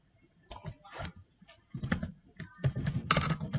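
Computer keyboard keys clatter in short irregular bursts, close and clear, as a word is typed into a web page's HTML code, with brief pauses between runs.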